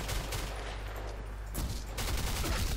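Automatic gunfire sprays in rapid bursts in the shooter game Black Squad, loud and dense with a brief lull before the shooting resumes.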